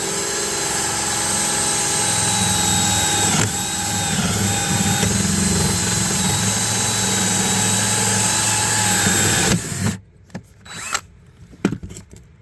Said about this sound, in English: So let's drill some holes in the boat.